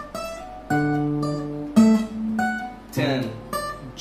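Fingerstyle guitar picking a short phrase from The Entertainer, a handful of distinct plucked notes with paired treble and bass tones, played close in a quiet room with no talk.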